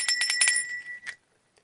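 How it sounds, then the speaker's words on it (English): A small bell kept on a home altar alongside a candle, pine cone and air plant rings in several quick bright strikes, then one last ring fading into near silence. "My bell,"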